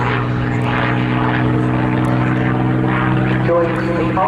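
A P-51D Mustang warplane flies at the Southport Airshow 2024, its piston engine giving a loud, steady droning roar with a strong low hum and propeller buzz that holds at even level throughout, close and unbroken.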